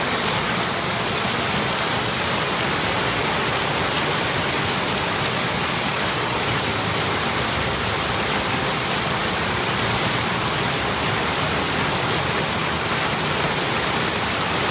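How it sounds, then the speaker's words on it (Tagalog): Heavy rain pours down steadily, a dense, loud, unbroken wash of water that fills the whole stretch with no voices. "Bumuhos talaga ang ulan."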